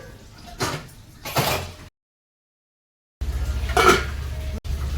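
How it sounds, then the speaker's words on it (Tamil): A metal lid is set onto a pot of biryani rice, giving a couple of short clattering knocks near the mic, then a pause and another clank over a low background hum. "இப்போ மூடியை போட்டு மூடிடுவோம்."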